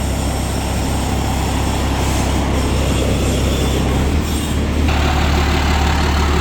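A factory-built, made-to-order straw baler with a 2.6-metre header, which turns out round bales, has its engine running in a loud, constant drone with a slight shift in tone near the end and no talking.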